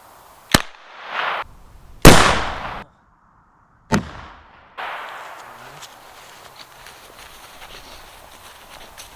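Several sharp, loud reports ring out at irregular intervals as a rifle is fired at homemade ballistic gel from about ten feet, each crack followed by a short decay, then quieter rustling.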